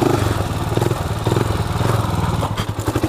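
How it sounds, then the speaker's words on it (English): A motorcycle engine revs hard for a wheelie, a loud close pulsing growl that rises and surges with throttle and drops back briefly near the end. "I gotta do a wheelie."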